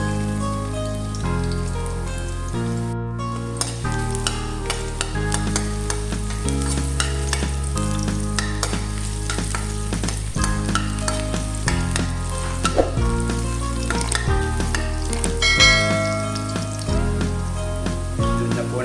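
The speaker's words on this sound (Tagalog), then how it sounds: "Igisa na po natin ang bawang" Garlic sautés in hot cooking oil in a pan for a corned beef dish, a steady sizzle and stirring heard beneath loud, continuous background music.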